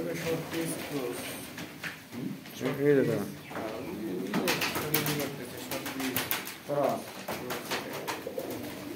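Pigeons on a farm in Bakshiganj, Jamalpur, coo repeatedly in soft, throaty bursts close by, mixed in with people talking over them.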